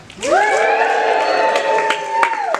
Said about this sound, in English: And snap and cheer if you are excited to see the show